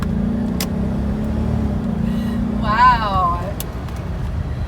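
A 1986 Mercedes-Benz 560SEC W126 accelerates with a steady, strong engine drone heard from inside the cabin; a person lets out a short exclamation partway through.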